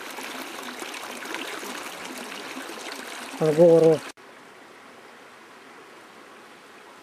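Steady broadband rushing of a stream at Khao Nor Chu Chi, Thailand, moderately loud, with a brief spoken Russian phrase in the middle before the sound drops to a quieter hiss.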